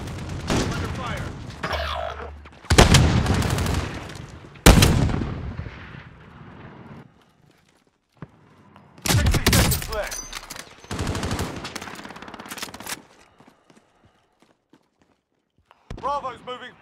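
Loud, sharp bursts of gunfire and heavy blasts in Call of Duty Modern Warfare Warzone Payload mode, arriving in clusters separated by quiet gaps, with radio-style voices between volleys.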